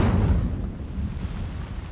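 An Incendio fire spell cast in Hogwarts Legacy: a single whooshing burst of flame at the start, fading into a low crackling roar that lingers close and steady.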